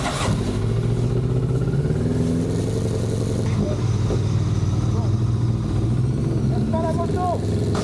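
A motorcycle engine at the Bol d'Or Classic race drones loud and close for several seconds, its pitch shifting as it revs, with voices talking beneath the continuous roar.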